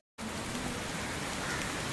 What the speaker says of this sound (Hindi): बारिश आ गई है बहुत तेज